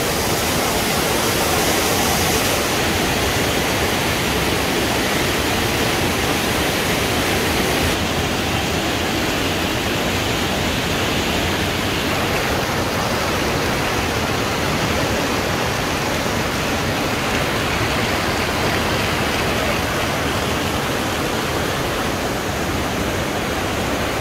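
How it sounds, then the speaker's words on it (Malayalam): Natural hot spring water at Manikaran flows and steams in a loud, constant rushing hiss, like a small waterfall or fast stream, heard alone with no talk. "ഇതാണ് സ്റ്റീം ഒഴുകുന്നത്."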